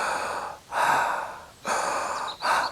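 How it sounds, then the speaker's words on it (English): Ujjayi yoga breathing with a closed mouth and tightened glottis, three long hissing breaths, close and alone, separated by short pauses. "Ujjayi makes a sound of ah with a closed mouth."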